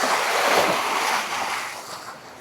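Water of the Gomti river at Dwarka, Gujarat, rushes in a steady broad wash with some wind buffeting the microphone, loud at first and easing off toward the end, with no voices.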